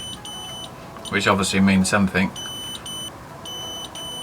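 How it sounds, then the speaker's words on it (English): Sharp electronic beeps from a Razor E300 electric scooter controller fitted with Xiaomi M365 parts repeat in short pairs, high and clear, with someone speaking briefly in the middle. "Those are just 2 beeps"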